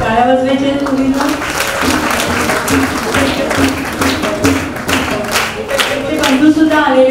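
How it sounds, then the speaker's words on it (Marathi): An audience at a ceremony honouring girls breaks into sustained applause, dense and loud throughout, with a voice speaking over the clapping. "टाळ्या वाजवायच्या मुलींना"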